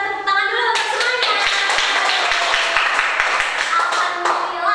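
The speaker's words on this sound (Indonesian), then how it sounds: "sekarang kita tepuk tangan dulu untuk semuanya" Students in a fourth-grade classroom clap together in a brisk, steady burst of applause that fills nearly five seconds, with a few sharper individual claps standing out and voices mixed in.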